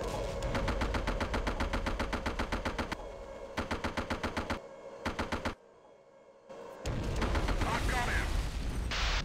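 Bursts of machine gun fire in the combat video game Arma: Cold War Assault, loud and close, firing in rapid rhythmic volleys separated by brief pauses, with a faint voice speaking partway through.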